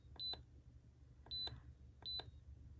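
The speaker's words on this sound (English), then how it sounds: "it looks like there's an auto shut off feature because it's beeping at me" Heat press beeping before its auto shut-off: three separate pairs of short, high electronic beeps about a second apart, faint over a low background hum, with no talking.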